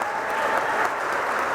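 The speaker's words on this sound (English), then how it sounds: "Give Brian a great round of applause if we could" Steady, dense applause from an assembled crowd greeting Brian at a company announcement event in Richmond, a continuous wash of clapping with no talk over it.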